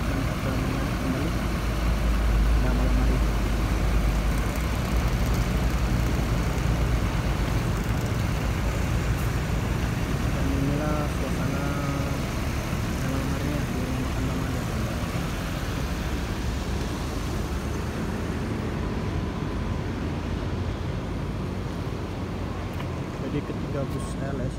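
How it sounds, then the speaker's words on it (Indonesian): A bus engine idles with a steady low diesel rumble while stopped on an Indonesian roadside, heard throughout under someone talking. "Sementara bus Sumber Trans akan melanjutkan perjalanan kembali."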